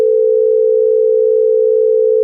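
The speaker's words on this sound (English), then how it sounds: "Let's hear the tritone." Synthesized tones sounding a tritone interval ring out as a steady, loud, electronic hum that holds unchanged for the whole stretch, with no voices.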